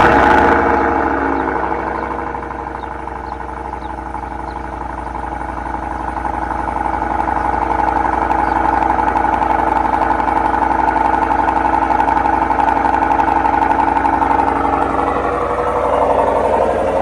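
A Cadillac Escalade fitted with a Corsa Sport exhaust idles with a steady, deep, rumbling burble, loud and close throughout with no talking.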